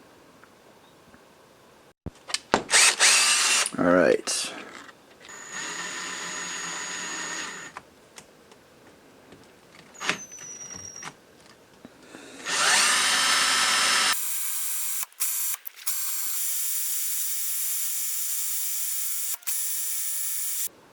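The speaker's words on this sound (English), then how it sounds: "I'm going to get a power drill, chuck it in there, and then use a file to sharpen that tip" A power drill whirs in repeated bursts, spinning a bo-shuriken blank like a makeshift lathe while a file grinds against its tip; steady high-pitched motor whine with short stops and a longer continuous run near the end, one brief spoken word.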